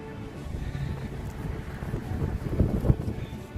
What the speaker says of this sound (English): This wind, I tell you.